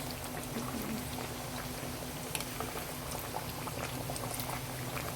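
Dal puri fries in hot oil in a home kitchen, a steady close-up crackle and fizz of bubbling oil with fine popping throughout and a low hum underneath.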